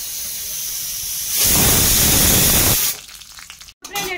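Cumin seeds hit hot oil with a loud, bright sizzling hiss that holds for about a second and a half, then dies back to quieter crackling.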